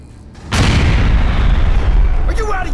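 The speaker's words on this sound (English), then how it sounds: "Grenade out!" A grenade detonates in the sci-fi shooter Aliens: Colonial Marines, one sudden heavy boom that rolls into a long, loud, low rumble, with a voice shouting briefly at the end.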